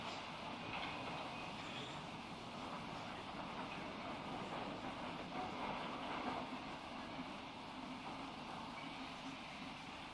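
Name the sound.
wiring train moving slowly on electrified railway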